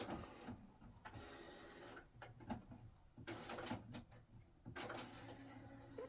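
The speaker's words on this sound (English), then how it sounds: "Is it like cleaning the heads of the printing thing?" A printer cleans its print heads indoors, giving a faint series of mechanical whirs, clicks and carriage movements in irregular bursts, heard softly at a distance.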